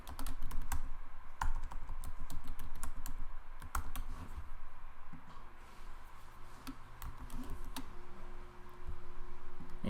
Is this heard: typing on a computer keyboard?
yes